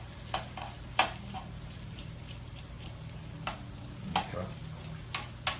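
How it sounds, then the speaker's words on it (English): Chicken pieces with garlic sizzling softly in a pan while tongs shift them around, making scattered light clicks and taps over a low frying hiss; one brief word is spoken. "I'm just taking the tongs and just really gently just kind of rearranging them a little bit"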